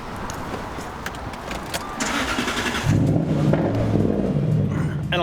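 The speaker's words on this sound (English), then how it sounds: "And a loud Jaguar." A Jaguar car's loud engine starts and revs, rising into a deep, throaty roar in the second half, with faint talk and rustling before it.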